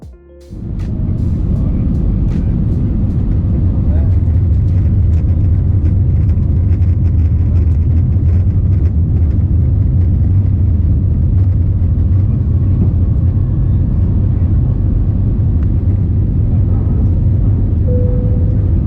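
Steady low roar inside the cabin of an easyJet airliner circling before landing at Malpensa Airport, loud and constant throughout, with no talk.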